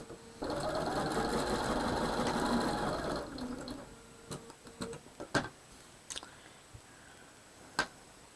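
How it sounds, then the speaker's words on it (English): A sewing machine stitches quilt block fabric with a loud, steady mechanical whir for about three seconds, then stops, leaving scattered clicks and taps from handling the machine and fabric. "I was following that line on my machine as always"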